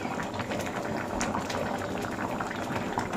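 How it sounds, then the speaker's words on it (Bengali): A pot of snakehead fish curry with potatoes boils steadily on the stove, giving a continuous close bubbling and gurgling hiss with no voices. "দেখো মাছের ঝোলটা হয়ে গেছে, একটু ফুটলেই নামিয়ে নেব।"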